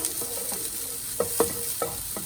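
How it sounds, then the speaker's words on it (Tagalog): Onions sautéing in olive oil in a pan for chicken curry, a steady close sizzle broken by several sharp scraping stirs of a utensil, with no voices. "Ato kayuhon og gisal ang sibuyas bombay para muhumot gyud siya maayo."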